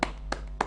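Three sharp, separate hand claps spaced evenly apart in a morning live television studio, crisp and close, each a short bright burst over a quiet background with no talk.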